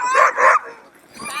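A team of sixteen sled dogs hitched to a big red toboggan on a snowy trail, barking and yipping in loud, close, excited bursts, then a brief lull before more yelping.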